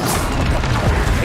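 A Confringo blasting spell goes off in Hogwarts Legacy, a loud, dense burst of crashing, booming noise that fills the whole short moment.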